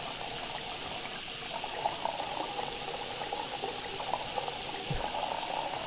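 A steady stream of water pours and fills a container in Cooking Simulator, running as a continuous even gush from start to finish with no voices.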